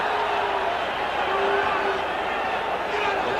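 A boxing arena crowd at a 1978 bout between Sugar Ray Leonard and Floyd Mayweather Sr. keeps up a steady, broad roar and chatter, with a commentator's voice faintly over it.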